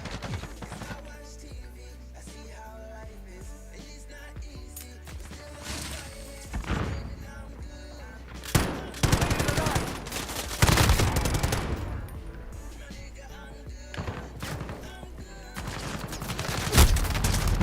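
Video game gunfire comes in sharp bursts and scattered shots, with louder clusters of rapid fire and impacts amid quieter stretches of background game noise.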